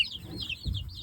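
Meat bird chickens, a small Cornish type, cluck softly at close range, with low throaty calls swelling briefly near the end over a steady faint background.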